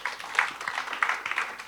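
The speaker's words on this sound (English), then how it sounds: "Give them another hands of applause." A conference audience breaks into a short burst of dense, steady applause, many hands clapping together in a large hall.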